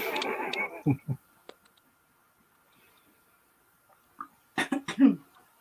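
A person coughs sharply a couple of times up close, then silence, then another cluster of harsh coughs and throat sounds.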